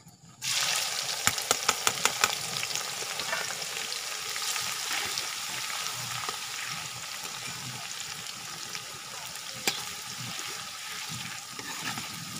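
Onions drop into about 200 grams of hot oil for a dal and egg dish, bursting into a sudden loud sizzle that settles into steady frying crackle with scattered sharp pops.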